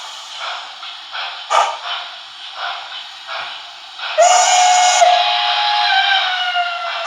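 A Broadway Limited HO-scale PRR I1sa model steam locomotive gives a loud, sustained whistle blast lasting about three seconds, after a stretch of quieter chuffing and hissing sounds.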